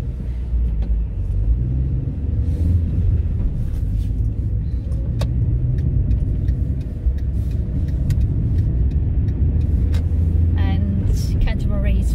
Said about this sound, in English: a busy place, lots of traffic.